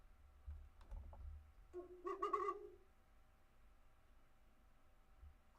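An owl sound effect gives a single short, breathy hoot and then a brief quavering call, faint and fairly near over a quiet background, with no talk.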